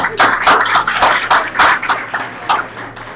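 An audience at a live event claps for a speaker, a burst of near hand claps that rises and swells in uneven waves before thinning out.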